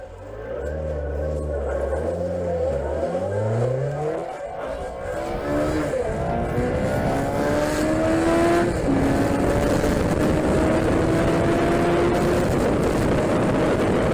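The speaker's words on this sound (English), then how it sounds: "the engine starts pulling from 2000 RPM. There's explosive power that only ends in the red zone of the tachometer." A Yamaha Thunderace motorcycle engine revs and accelerates, loud and close, pitch sweeping up and down through several rises before a long climbing pull toward high revs.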